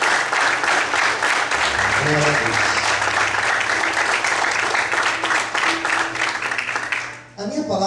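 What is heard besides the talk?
congregation applauding in church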